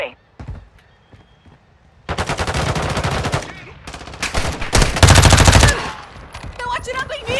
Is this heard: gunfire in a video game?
yes